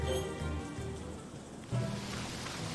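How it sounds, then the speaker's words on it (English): Steady rainfall pattering down in the video game Sakuna: Of Rice and Ruin, a soft continuous wash of drops on surfaces, fairly quiet, with a brief thicker surge partway through. "Still raining. My rice is getting soaked."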